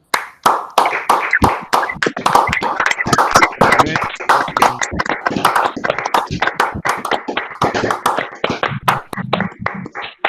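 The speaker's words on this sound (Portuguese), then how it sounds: "eu vou pedir para que todos liguem seus microfones para uma salva de palmas final para todos os nossos palestrantes" Online meeting participants with microphones switched on give a final round of applause to the speakers: close, uneven hand clapping with distinct individual claps, steady throughout with little talk.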